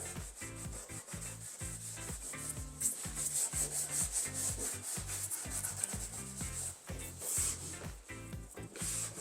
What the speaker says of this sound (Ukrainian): Проміжна шліфовочка її ніхто не відміняв, це нам покращить адгезію.